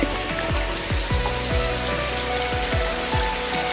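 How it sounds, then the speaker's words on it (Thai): Steady rain patters on a surface and a bamboo clump, with heavier drops hitting at irregular intervals close by. "ตอนนี้ฝนตกแล้วพี่น้องฝนลงเม็ดแล้ว"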